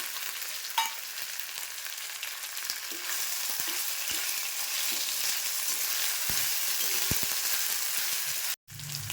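Chopped green chillies fry in oil in a pan for green pea rice, a continuous loud sizzle with occasional light scrapes and taps of stirring, broken by a brief gap near the end.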